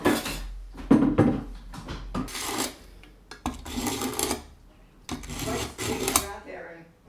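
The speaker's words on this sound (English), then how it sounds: "I'm just sharpening my knife" Knife being sharpened in a home kitchen, bursts of scraping metal strokes separated by short pauses, close and fairly loud, with voices talking around them.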